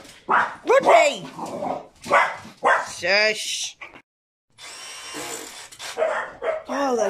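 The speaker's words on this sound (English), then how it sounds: "Oh, those bloody dogs." Dogs bark and yip in sharp, repeated bursts close by, mixed with loud shushing and a person calling out to them during a van kitchen build while a fibre engineer visits.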